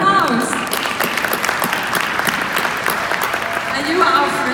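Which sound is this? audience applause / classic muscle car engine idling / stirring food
audience applause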